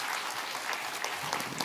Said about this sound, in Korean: 우리 격려와 축복의 박수 해주시면 좋겠습니다